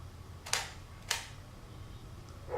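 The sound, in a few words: camera shutter click triggered by Viltrox JY-710 remote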